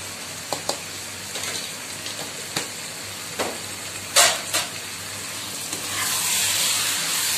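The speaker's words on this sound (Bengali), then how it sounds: "আমি কলিজাটা এখন 2 থেকে 3 মিনিট এইভাবে তেলটার মধ্যে মশলাটার মধ্যে ফ্রাই করব।" Chicken liver fries in hot oil with garam masala and other spices, giving a continuous sizzle punctuated by scattered sharp utensil clicks and scrapes, swelling louder toward the end.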